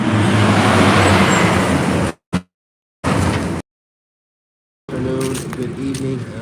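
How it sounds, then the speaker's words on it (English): A truck passing on a roadway roars loud and close with heavy low rumble, cutting out twice in short gaps before returning. "There's a loud truck."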